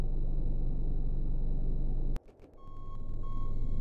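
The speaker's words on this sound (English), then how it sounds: "I really should rip out that backup beeper" A vehicle's reversing backup beeper in the Cataclysm DDA video game sounds as a steady repeating tone, first over loud broadband rumble, then alone after a brief drop to quiet.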